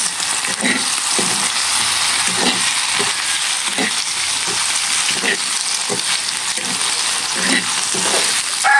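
Food frying in a little cooking oil in a pan, a loud continuous sizzle close by with a rhythmic pattern of stirring or flipping scrapes throughout.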